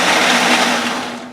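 A Ninja blender on its mix setting chops chicken salad with orange wedges, giving a loud, close, grinding whir that fades slightly toward the end.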